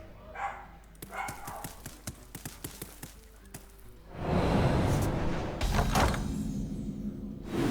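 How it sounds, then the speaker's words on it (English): A dog indoors barks several times in short separate bursts. The barks are moderately loud and come before a louder, steady rush of broadband noise takes over. "dog's randomly barking at nothing"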